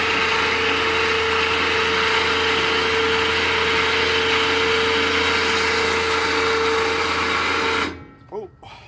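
An engine-driven welding machine runs at a steady loud drone close by, then cuts off near the end, leaving quieter rustling.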